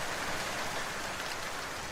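Steady rain falls in Asturias, a dense, even hiss of drops with no break or change in level, heard alone without voices.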